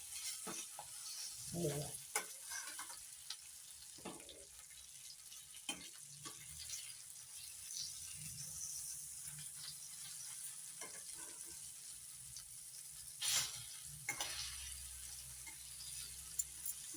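Mackerel (bangda) frying in oil in a pan for Malvani-style bangda fry, a steady soft sizzle throughout with occasional scrapes and clinks of a utensil; a brief spoken phrase near the start.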